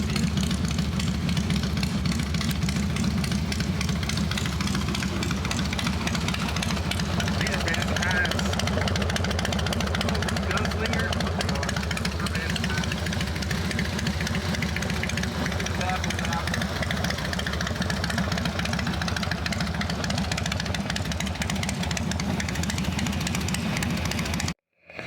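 A 1969 Camaro with aftermarket exhaust pipes idles steadily and close, a continuous low rumble that holds level for the whole stretch before cutting off abruptly at the end.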